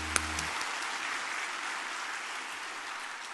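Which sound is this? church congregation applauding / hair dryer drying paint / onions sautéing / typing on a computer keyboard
church congregation applauding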